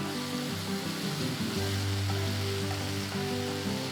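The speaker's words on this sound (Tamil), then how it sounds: "ஒரு கையளவு ஃப்ரெஷ்ஷான கொத்தமல்லி கொஞ்சம் கருவேப்பிலை சேர்த்து வதக்கலாம்" Tomatoes with fresh coriander and curry leaves sautéing in a pan, a continuous dense sizzle with no pauses or voices.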